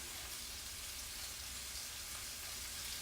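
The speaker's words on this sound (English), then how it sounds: "I'm adding some garlic in here with the green beans." Garlic frying with green beans in a pan during home meal prep gives a steady, soft, continuous sizzle, faint and even throughout, with no one talking.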